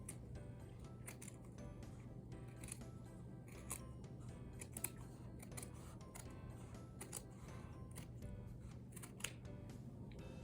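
Scissors snip through green felt, cutting out a landscape shape in a steady run of small crisp cuts over a faint hum, close and fairly quiet, with no one talking.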